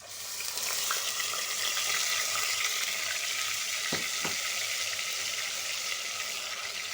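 Onion paste fries in oil for a chicken curry, giving a steady dense sizzle close up, broken by two brief knocks near the middle.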